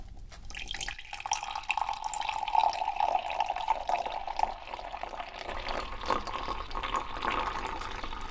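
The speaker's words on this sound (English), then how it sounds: "now we're going to place the cup down here and apply this lovely milk in here" Milk pours steadily into a cup for hot chocolate, a close, continuous liquid stream with a faint rising tone lasting several seconds, heard alone.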